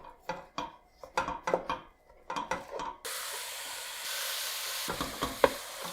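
Ground meat browning in a pan for sini kofte, first with intermittent scraping and stirring strokes, then a steady sizzling fry that carries on with a few more stirs near the end.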